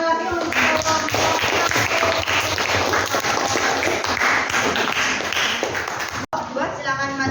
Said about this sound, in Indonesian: Beri tepuk tangan lagi untuk kelompok.